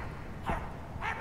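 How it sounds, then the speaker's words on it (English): Dog in the video game My Friendly Neighborhood gives two short barks about half a second apart, moderately loud over a low background hum. "Wait, is there a dog right there?"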